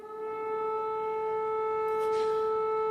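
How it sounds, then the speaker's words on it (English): Air raid sirens wailing over Kyiv as a steady, sustained tone carrying across the city, moderately loud and unbroken for the whole stretch. "Raggy, as you can probably hear, the air raid sirens have started again."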